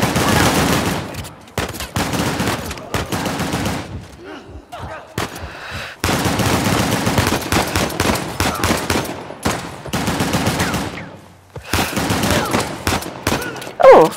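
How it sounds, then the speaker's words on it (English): Gunfire bursts from a shootout in the video game Uncharted: The Lost Legacy, with dense fusillades and rapid automatic fire broken by short pauses, loud and close throughout, with some voices mixed in. "And here we go, we're learning how to shoot now."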